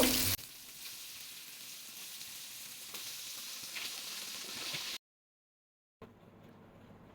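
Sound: beef keema kababs frying in hot oil

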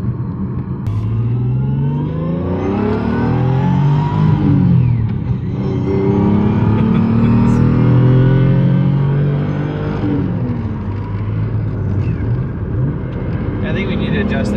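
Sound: 1J engine car revving without turbo

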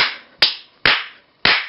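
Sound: hand clap near a microphone sensor

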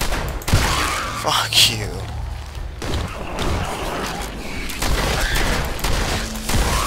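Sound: gunfire from a gun in the video game Fallout 4

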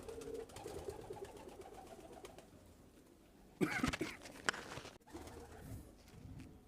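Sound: Archangel ornamental pigeon cooing

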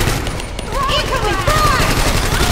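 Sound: gunfire in the video game Firestorm 2

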